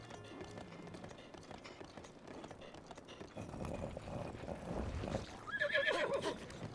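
Horse in The Legend of Zelda: Breath of the Wild neighs loudly near the end over a running clatter of hooves and game background sounds, the whinny rising bright and close.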